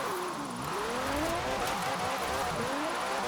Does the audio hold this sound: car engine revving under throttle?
yes